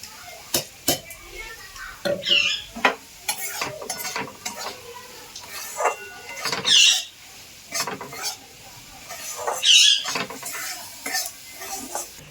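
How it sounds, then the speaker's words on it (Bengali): Ground semolina fries in hot white oil in a pan, giving a soft sizzle broken by repeated scraping and clinking as a utensil stirs against the metal. A voice talks quietly in between. "সুজিটা যেটা আমি গুঁড়ো করে রেখেছিলাম সেটাকে আমি এটাকে একটু ভেজে নেব"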